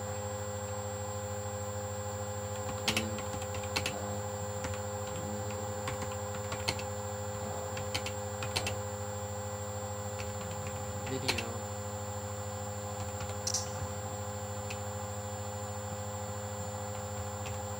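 Scattered light clicks of typing on a computer keyboard, sparse and fairly faint above a steady electrical hum, with no talking.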